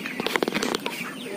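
Chickens on a poultry farm flap their wings in a quick, close burst of fluttering beats lasting just over a second.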